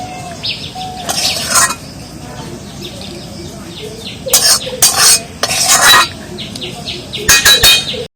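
A spoon clinks and scrapes against a pot and plate while egg and eggplant curry is served, several sharp metallic bursts over quiet background with birds chirping faintly.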